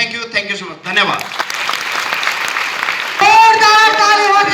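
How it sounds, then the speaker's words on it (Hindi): Applause from an audience at an event, steady clapping that rises and fills the scene after a voice speaks at the start, growing louder and denser near the end. "जोरदार ताली होगी दोस्तों हमारे सर के लिए, जोरदार ताली"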